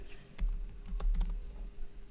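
Close, fast typing on a computer keyboard while writing HTML code in VS Code, a short burst of clustered key clicks with no talking.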